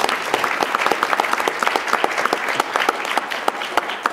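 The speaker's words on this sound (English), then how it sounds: "Our students, let's give them a round of applause, too" Loud, close round of applause for students at a panel conference, crisp individual claps clearly audible in a lively, continuous burst.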